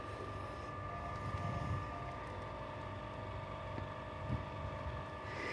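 A three-phase motor driven by a Nice D-Pro Action control unit runs up toward its upper limit, giving a steady, even mechanical hum with a faint tonal whine throughout and no talking.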